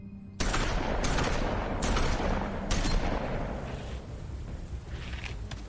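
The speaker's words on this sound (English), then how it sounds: "That was a lot of bullets" A heavy burst of gunfire in The Wolf Among Us video game: sharp repeated shots several times a second over a dense roaring bed, loud and continuous, with no talking.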